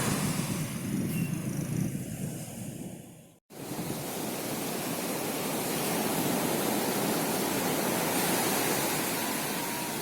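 Steady roar of ocean surf breaking on a beach in Pariaman, wide and continuous, with a brief dropout partway through and a wind-blown rush throughout.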